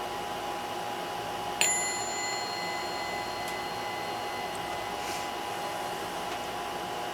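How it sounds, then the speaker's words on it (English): Indoor air conditioner running as a steady, even hum and whoosh throughout, with a brief bright ding partway through sitting over the constant drone. "I hope the air conditioner isn't too loud"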